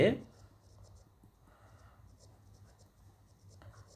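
Faint scratching strokes of writing on a board during an English grammar class, quiet and intermittent against a low steady room hum.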